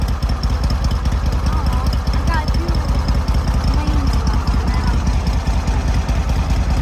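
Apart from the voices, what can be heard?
lawnmower engine running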